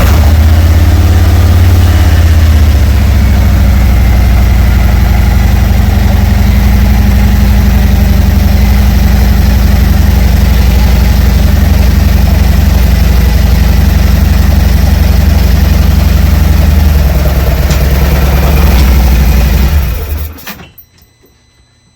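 A motorcycle engine idles steadily as the bike rolls into a Condor wheel chock, a loud, even, low drone that continues for most of the stretch before the engine cuts off near the end.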